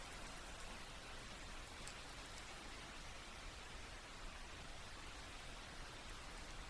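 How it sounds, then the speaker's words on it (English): Steady, dense rainfall hissing evenly throughout, a constant wash of droplets with no voices or thunder. "just focus on the sound of the rain"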